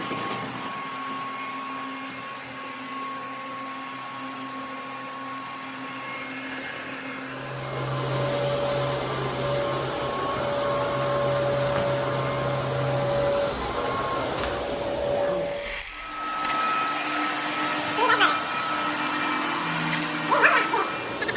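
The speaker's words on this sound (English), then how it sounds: "All right, guys, we are screening." Floor buffer screening a hardwood floor during refinishing, a continuous droning motor hum that rises in loudness partway through, with steady tones and a brief dip before carrying on.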